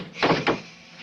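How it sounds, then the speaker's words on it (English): An indoor door being shut in an old 1945 mystery film scene, two quick soft thuds in close succession, near and moderately loud, with no talk over them. "Close that door for me."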